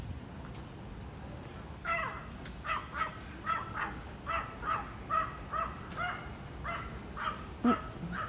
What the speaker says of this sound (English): that dog is so cute, little Yorkie